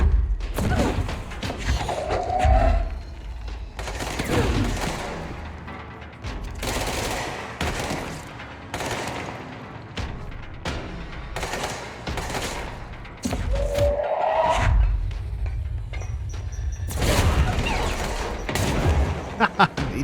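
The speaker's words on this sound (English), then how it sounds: "He threw a grenade at himself." Explosions and heavy impacts in the video game Control, grenade blasts among them, come as several loud booming thumps and crashes mixed with gunfire. A voice talks faintly in places.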